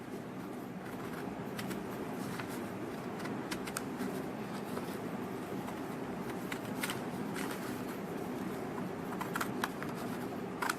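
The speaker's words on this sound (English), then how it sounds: "I'll cut this using scissors." Scissors cutting a drawn paper semicircle for a wall hanging, quiet crisp snips and rustling paper repeating irregularly at close range, with no talk.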